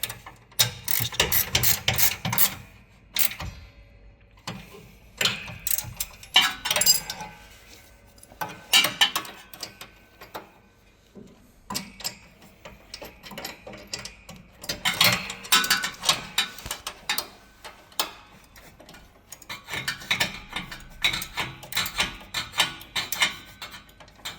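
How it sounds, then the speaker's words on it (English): Two ratchet spanners, a 17 mm on the nut and a 16 mm on the bolt head, tightening the mounting bolt for a fold-down T-step on a Ford Ranger Raptor; bursts of close, rapid metallic clicking come in repeated runs with short pauses. "You'll need two ratchet spanners. One's a 17 for the nut and a 16 for the bolt head."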